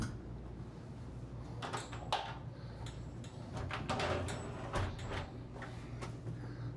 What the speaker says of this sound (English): And then you do have one more pocket door to close off.